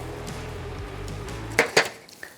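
Grilled thinly sliced chuck steak lifted off a grill into an aluminum tray, two sharp metallic clinks and a faint tap near the end, after a low sizzling hum.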